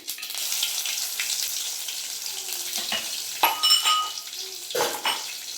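Crushed garlic sizzles in a hot pan while a spoon stirs and scrapes it. The hiss is steady and close, broken by a few sharp metallic clinks of utensil against pan.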